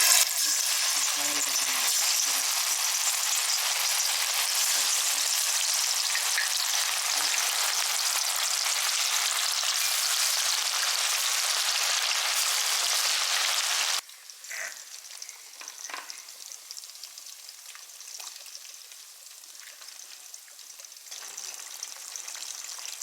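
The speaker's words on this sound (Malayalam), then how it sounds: "ഇവിടെ ലോബ്സ്റ്റർ ഇട്ട് കൊടുത്തിട്ടുണ്ട്" Lobster pieces frying in hot oil for a masala fry, a loud steady broadband sizzle that drops abruptly to a quieter, crackling fry partway through as the heat is lowered.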